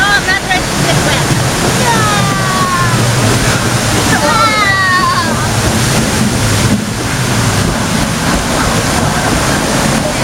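Rushing river water roars steadily around a raft on the Kali River Rapids ride at Disney's Animal Kingdom, a loud continuous wash with wind buffeting the microphone and faint excited voices mixed in.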